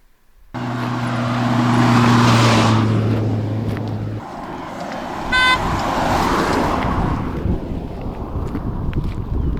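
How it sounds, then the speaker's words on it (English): A car passes on the Pamir Highway between Murghab and Khorog, its engine and tyre roar swelling loudly with wind buffeting, a sustained horn tone sounding early and a brief toot midway, then fading into gusty wind. "So that's 3 cars going in the other direction now."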